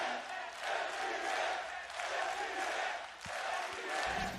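Arena crowd at a Valorant esports match, the VCT Masters Copenhagen 2022 lower final between FPX and OPTIC, roaring and cheering in sustained swelling waves, loud and dense throughout with brief dips between surges.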